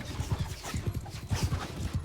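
A horse's hooves clip-clop in a steady galloping rhythm in the video game Mount and Blade 2 Bannerlord, close and repetitive, with low rumbling thuds beneath each beat.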